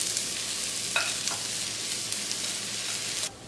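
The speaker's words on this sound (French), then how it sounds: "Ça fait à peu près 5 minutes que mes légumes sont en train de dorer." Vegetables brown in a pan with a steady, soft sizzle, and a few brief stirring scrapes stand out before the frying noise drops slightly near the end.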